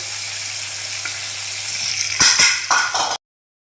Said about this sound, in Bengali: এই তো দেখেন লাল লাল করে ভাজা হয়ে গেল